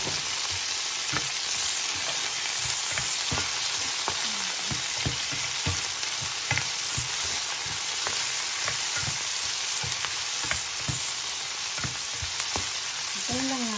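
Tomatoes fry in a hot pan with a steady, loud sizzle, punctuated by repeated scraping and stirring strokes, with no talking over the cooking.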